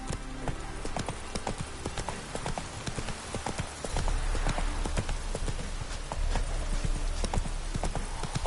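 Roach, the horse in The Witcher 3, trots with a steady, close clip-clop of hooves that runs without a break over a loud background, and a brief neigh sounds among the hoofbeats.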